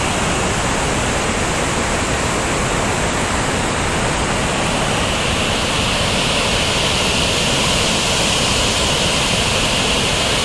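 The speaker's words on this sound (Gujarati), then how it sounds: "કેટલો જોરથી આ પાણીનો પ્રવાહ વહી રહ્યો છે તેનો અવાજ પણ તમે સાંભળી શકતા હશો" Overflowing Shetrunji dam with water rushing through its open gates, a loud, steady roar of torrential river flow that fills the whole stretch without a break, close by.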